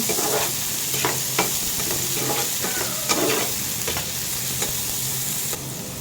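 Chopped onions fry in oil in a pan for an eggplant bhaji, a steady close sizzle with occasional crackles and stirring scrapes throughout, no voices.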